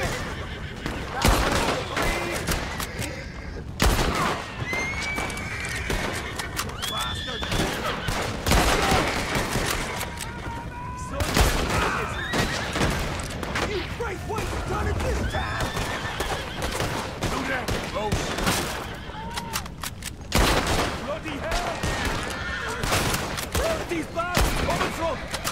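Horses neigh and whinny amid bursts of gunfire during a shootout in the video game Red Dead Redemption 2, loud and dense throughout, with rapid shots, scattered whinnies and someone talking over the action.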